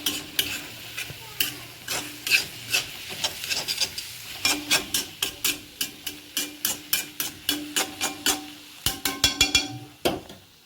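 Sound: mixing and crushing tomatoes in a pan

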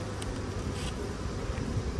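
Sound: Buckfast honeybees buzzing at beehive

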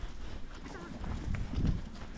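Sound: horse hooves clip-clopping

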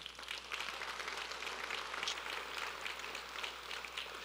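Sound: congregation clapping in worship

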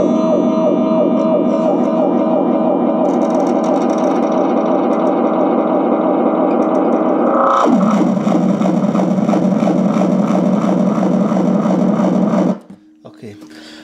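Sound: two echo delay effects chained on guitar, Pearl and Aria

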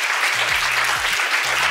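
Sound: audience applause

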